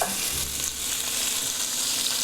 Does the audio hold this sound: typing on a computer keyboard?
no